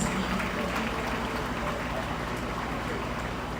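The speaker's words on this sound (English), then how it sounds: "While we take our pictures, a round of applause, please." Audience at an award ceremony applauding continuously, a dense, even patter of many hands at moderate distance that holds steady without a break.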